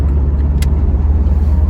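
Steady low rumble of a Chevrolet Z28 Camaro with an LS1 V8 cruising in sixth gear on a street at about 45 mph, heard from inside, constant and loud with a brief tick near the start.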